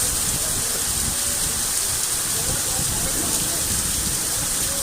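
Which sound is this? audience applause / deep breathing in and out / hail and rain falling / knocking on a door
hail and rain falling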